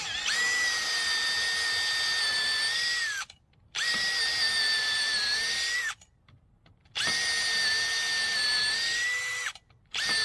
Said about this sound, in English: We're gonna drill holes and bolt this on.